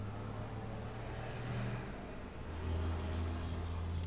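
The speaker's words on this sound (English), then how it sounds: "bloody noisy cars around here" Cars driving past on a street outside, a steady low engine rumble that swells as one vehicle goes by, with no talk over it.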